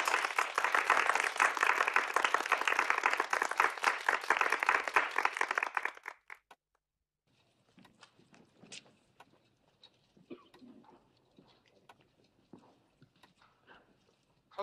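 Audience applause in a hall, a dense, loud burst of clapping lasting about six seconds before cutting off abruptly into quiet, sparse room noise.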